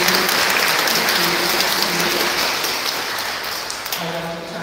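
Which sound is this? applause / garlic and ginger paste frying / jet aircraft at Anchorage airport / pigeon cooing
applause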